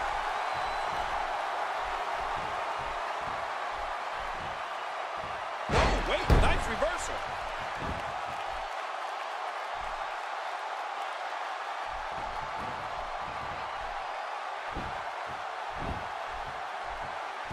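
A simulated arena crowd in a wrestling video game roars steadily as a continuous wash of noise, with a loud slam-like impact midway and a commentator talking over it.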